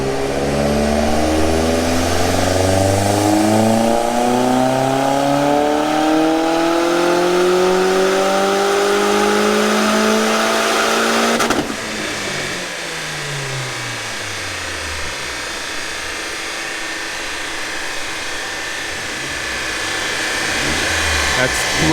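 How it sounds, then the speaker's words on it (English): A VW Golf Mk2 revs on a dyno, its engine climbing steadily in pitch through a long loud pull, then cutting off abruptly and winding down with falling tones. "This car sounds like it's revving forever."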